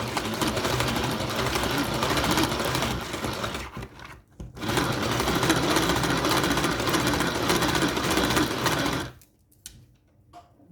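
A loud, steady electric whirring buzz from an electric mixer whipping egg whites runs continuously, dips out briefly, then resumes before stopping near the end.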